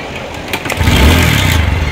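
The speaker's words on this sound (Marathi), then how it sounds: "गाडी आता स्टार्टच होत नाही. काय झालं काय माहिती, किक ट्राय करतोय" A motorcycle that is refusing to start gets kicked over, and its engine catches and runs on with a steady low rumble, close and loud, after a brief clatter from the kick.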